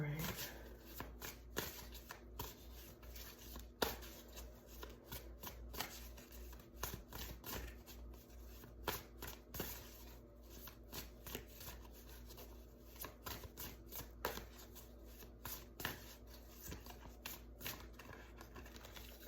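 A deck of tarot cards is shuffled over and over, giving a steady close patter of riffling and sliding cards for a long stretch, with a voice talking quietly underneath.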